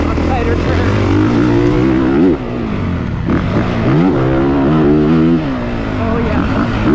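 A 450cc motocross dirt bike engine drones loudly and steadily while being ridden, its pitch climbing and dipping with throttle changes, and a rider talks over the engine noise throughout.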